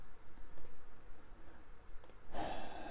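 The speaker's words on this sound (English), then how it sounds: "so I'm just gonna click the button here." A computer mouse button clicks a few times, with a couple of sharp, faint clicks close to the microphone. A quiet, breathy rustle follows near the end.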